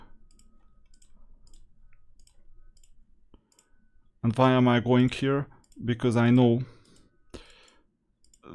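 Faint, sparse mouse clicks while playing Era of Chaos, a few small ticks scattered through quiet stretches, with someone talking loudly over part of it.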